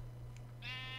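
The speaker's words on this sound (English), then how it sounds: "Okay, that sheep's going down." A Minecraft sheep gives one short, clear bleat near its end over a faint steady game hum, with no talk.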